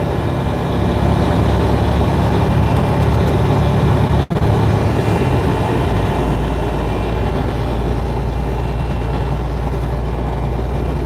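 A heavy truck engine rumbles steadily and loudly up close, with a brief dropout partway through before the constant drone resumes.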